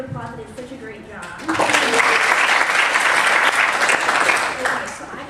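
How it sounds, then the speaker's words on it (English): Audience applause breaks out after a stand-up comedy act, rising sharply to a loud, steady wash of clapping that follows quieter talk from the stage at the start. "Let's give them another round of applause."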